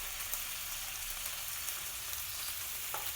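Marinated liver sizzles on a hot grill as the marinade liquid releases, a steady faint crackling hiss with small pops throughout and no talking.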